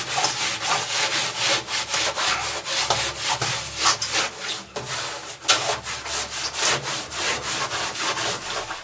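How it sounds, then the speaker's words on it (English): A cloth wipes acetone across the steel interior walls of a trawler hull in quick rhythmic rubbing strokes, close and continuous with small irregular bursts. "Just giving the walls a bit of an acetone wash now."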